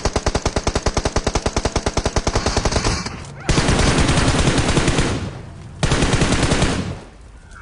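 Gunfire from a shooter video game sounds in rapid automatic bursts. A fast, rhythmic stream of shots gives way to two long, dense, sustained volleys, loud and close, with no talk.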